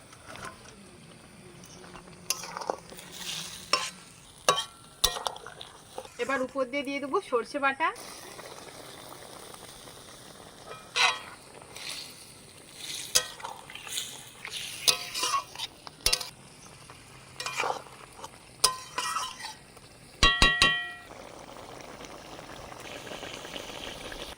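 Fish curry bubbling as fried fish pieces go into the pot, with clinks of a utensil against the pan and intermittent stirring over a steady simmer, close by.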